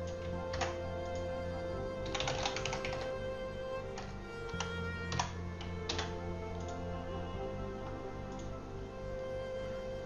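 Keys clack on a computer keyboard in irregular bursts of typing, close and fairly quiet over a steady background hum.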